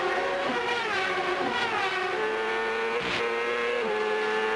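A CART IndyCar engine screams onboard with Jimmy Vassar during the 1997 Long Beach street race, loud and continuous with rising and falling pitch through gear shifts and a brief blip near the end.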